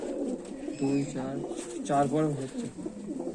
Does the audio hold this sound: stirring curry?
no